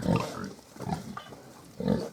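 Hungarian Mangalica piglets grunt in short, low bursts close by, a few separate snorting grunts spaced across a couple of seconds.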